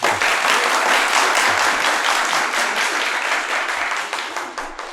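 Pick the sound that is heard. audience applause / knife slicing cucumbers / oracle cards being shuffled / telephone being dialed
audience applause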